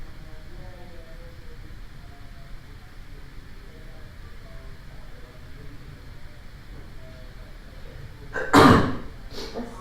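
A single loud sneeze bursts out near the end of a quiet indoor meeting, alone against a low room hum after a long lull.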